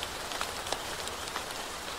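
Heavy rain pours in a fairy-tale sound effect, a dense, constant hiss with scattered drops striking a surface, close and steady, with no voices.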